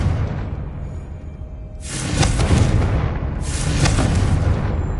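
Explosion from a blasting spell in Hogwarts Legacy, heard as two loud whooshing, roaring blasts over a low rumble, the first swelling near two seconds and the second about a second and a half later.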